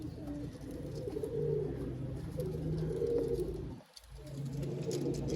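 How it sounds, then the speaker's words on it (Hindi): Ustad Mansha pigeons give soft, repeated low coos close by in a loft. The cooing is steady and overlapping, with a brief pause near the end, and faint chirps sound in the background. "ये भी जी कबूतर है उस्ताद मंशे वाला"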